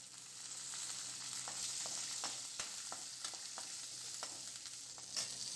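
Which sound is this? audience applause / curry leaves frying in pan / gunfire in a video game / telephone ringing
curry leaves frying in pan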